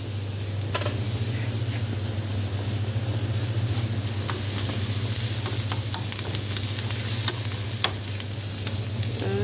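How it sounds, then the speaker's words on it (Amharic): Onions fry in hot oil with a loud, continuous sizzle, a steady crackling hiss and a low hum beneath it, with occasional faint clicks of stirring. "እና ሽንኩርት ጨምራለሁ።"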